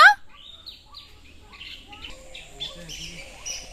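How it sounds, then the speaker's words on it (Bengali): A drongo calling outdoors, a quick run of sharp chirps and whistled notes at moderate distance, faint and intermittent against a quiet background. "আমি পাখি চিনি না, এটা ফিঙে"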